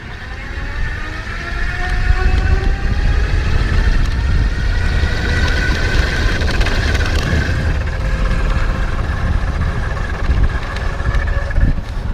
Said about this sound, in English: So I'm gonna finish out by like doing the throttle and show you the motor again.